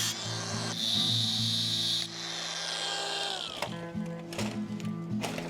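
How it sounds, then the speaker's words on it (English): An angle grinder cuts through old stock fencing wire on an abandoned farm, a loud sustained whine with a shrill high edge that rises and falls as the disc bites, then breaks into rougher, uneven grinding toward the end. "So I'm going to angle grind that off first."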